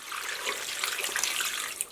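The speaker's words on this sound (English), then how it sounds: "so I'm adding 4 cups of water." Four cups of water pour into a slow cooker holding crumbled sausage, a steady splashing trickle with a bright liquid gurgle, fairly soft and close, ending with a small final splash.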